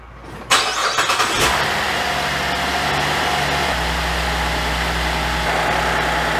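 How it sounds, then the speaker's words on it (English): A car engine cranks with a few quick bursts, catches and settles into a steady idle, heard close and alone. "Now it's telling me to go start the engine."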